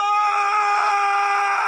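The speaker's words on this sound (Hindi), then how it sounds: "परछाई चिल्लाते हुए।" A shrill, sustained scream effect voicing a shadow creature in a Hindi horror story, one continuous high-pitched cry holding steady for under two seconds, loud and alone with no talk over it.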